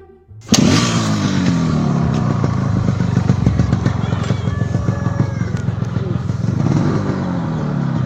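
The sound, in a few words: motorcycle engine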